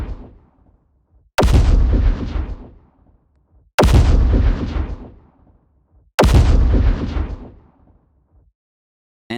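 Explosion sound effect pushed through a limiter and saturator chain: three loud, heavily compressed booms, evenly spaced, each with a thick distorted tail that decays over about two seconds, with no voices.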